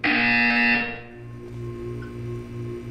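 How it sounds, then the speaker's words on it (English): A buzzer in the Portal 2 video game, a loud harsh electronic buzz lasting under a second, then fading into a low steady hum. "You will hear a buzzer."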